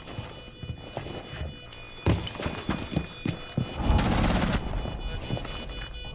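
Gunfire from the video game Rainbow Six Siege sounds as scattered thudding shots, fairly faint at first, then a cluster of sharper hits and a loud noisy burst near the end, with no talk.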